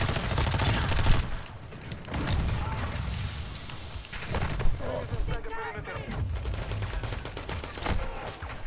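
Rapid gunfire and shots from the shooter game Warzone 2 rattle through in dense bursts, with someone talking over the combat audio.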